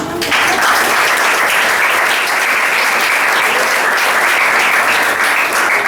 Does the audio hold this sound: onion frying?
no